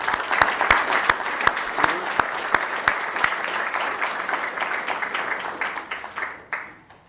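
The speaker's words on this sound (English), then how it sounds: "can you just give a round of applause to all these seminar leaders?" A room full of people applauds steadily, with a few louder individual claps standing out, before the clapping tapers off at the end.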